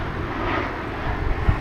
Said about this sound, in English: plane coming into Gatwick.